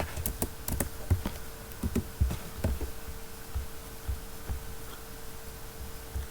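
Code being typed on a computer keyboard, irregular quiet key clicks in quick bursts with pauses, close and soft over a faint steady hum.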